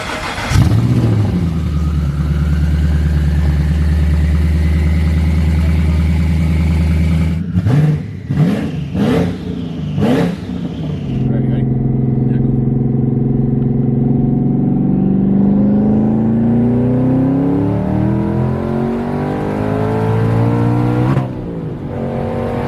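A twin-turbo Mustang fires up for the first time and idles loudly up close, then takes several sharp revs before settling into a rough, steady idle with a rising whine, and a final blip near the end.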